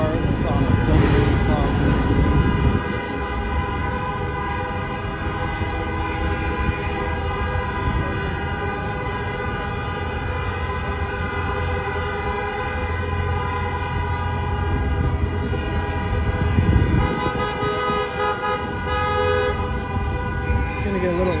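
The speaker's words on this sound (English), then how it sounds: "It's gonna get a little loud with the horn honking" Long sustained car horn blasts at a street protest in Beverly Hills, California sound continuously, loud and droning, with a few louder swells and some voices faintly underneath.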